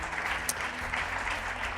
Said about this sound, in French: On vous applaudit, on vous remercie de votre présence.